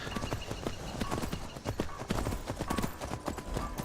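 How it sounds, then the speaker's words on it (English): Horse hooves gallop in the Skyrim video game, a fast rhythmic clip-clop of repeated thuds, moderately loud and steady throughout with no talk. "It looks like Indigo's horse is caught up, if not Indigo."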